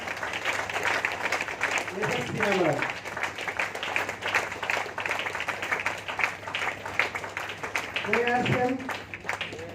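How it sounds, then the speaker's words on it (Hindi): Audience applause welcoming a guest, Mrs. Seema, called to the stage at a business seminar, a dense steady clatter of clapping running throughout with an announcer's voice speaking over it at moments. "आप लोगों की जोरदार तालियों के बीच में मैं बुलाना चाहता हूँ गुरु माता"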